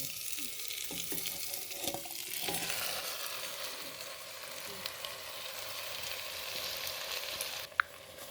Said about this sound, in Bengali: মশলাগুলো আমার খুব সুন্দরভাবে ভাজা হয়ে গেছে আর একটা সুন্দর গন্ধও বেরিয়েছে এইবার আমি চিকেনটা দিয়ে দেবো